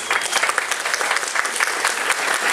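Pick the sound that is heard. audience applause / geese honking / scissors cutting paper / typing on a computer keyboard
audience applause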